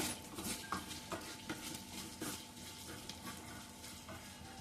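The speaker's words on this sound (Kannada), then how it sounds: "ಚೆನ್ನಾಗಿ ಫ್ರೈ ಆಗಬೇಕು ಇದು" Ingredients for tomato rasam fry quietly in a pan, a faint sizzle broken by light intermittent clinks and scrapes of a utensil, with no talk.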